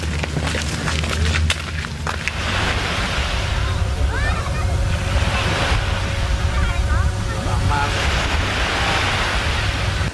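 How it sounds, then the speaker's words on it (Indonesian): Ocean waves and wind at Terentang Beach on a bright but cloudy day, with continuous surf roar, heavy wind buffeting the microphone and faint voices in the background. "Saat ini kita ada di Pantai Terentang."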